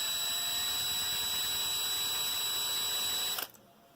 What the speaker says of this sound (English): So I'm going to drill it, but not too much, because I don't want to destroy this baby.